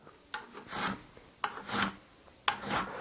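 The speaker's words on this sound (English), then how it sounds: "all you do is run the burnisher down the scraper several times on each side" Steel burnisher drawn firmly along the edge of a woodworking scraper to turn a burr, three separate rasping strokes about a second apart, each one a scraping rub that swells and fades, close and clear with no talking.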